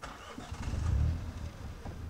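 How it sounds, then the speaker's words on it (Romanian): A petrol Mini Cooper with a manual gearbox cranks and catches, its engine swelling briefly to a low rumble before settling into a steady idle, heard close from inside the car. "Și mașina a pornit."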